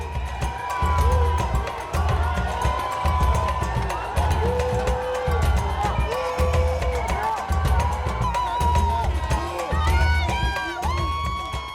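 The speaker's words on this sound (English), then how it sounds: "about 500 fans gathered outside as the bus made its way along the street. Some had come to cheer" A large crowd of about 500 Brazil fans cheers outside the team hotel as the team bus passes along the street. The loud, dense shouting and chanting rises and falls in rhythmic waves, with individual voices and whoops standing out.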